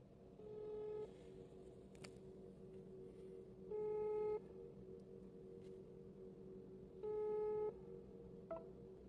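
An outgoing phone call to a customer ringing unanswered: two long ringback tone bursts a few seconds apart over a low, steady background hum, faint and with no talk.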